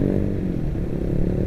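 A motorcycle with a standard exhaust rumbles close by, a steady low engine drone throughout with no distinct rev peaks.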